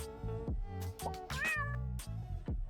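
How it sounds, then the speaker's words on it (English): A video game cat sound effect meows several times in quick succession, clear and close, with drawn-out tonal cries and short breaks between them. "Meow indeed."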